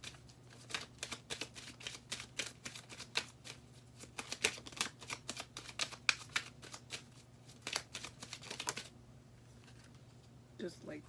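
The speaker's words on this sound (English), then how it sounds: "Let me pull one more card for that." Tarot cards being shuffled and pulled from a deck, giving a steady run of crisp, close riffling flutters and slaps that stop near the end, over a faint background hum.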